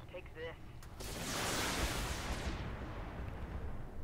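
Mechs in the BattleTech game unloading weapons at one target, a broad rumbling roar of heavy fire building after a second and holding loud and sustained, with faint talk at the start.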